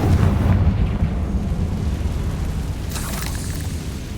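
A Confringo spell blast from Hogwarts Legacy lands with a deep, rumbling boom that fades out. A second, crackling burst follows a few seconds later.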